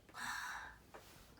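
A patient takes one deep breath during a stethoscope chest exam, a soft, close, breathy inhalation lasting about half a second, followed by a faint short exhale, with no talk over it.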